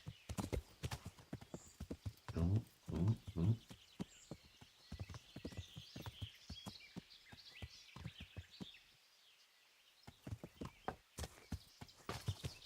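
Hooves clop at an unhurried walking pace from a horse in Kingdom Come: Deliverance, close and fairly quiet with a few louder steps and a short pause, while a man chats over it and birds call faintly.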